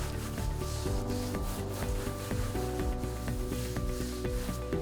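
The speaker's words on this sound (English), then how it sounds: "We're gonna keep scrubbing." A rag scrubbing a Polytek floor gives continuous rhythmic rubbing strokes, close and fairly steady, with no talking.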